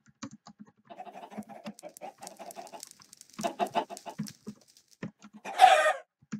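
Minecraft chickens summoned by a boss in a custom map: a run of short, rhythmic clucks and chirps, fairly faint, builds into a louder burst of squawking near the end.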